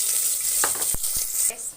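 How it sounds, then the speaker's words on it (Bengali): Chopped green chillies and onion hit a hot pot and sizzle steadily up close, with a few sharp clatters of stirring in the middle of the hiss. "এবার দিয়ে দিব আমি কাঁচা মরিচ কুচি এবং পেঁয়াজ কুচি করা"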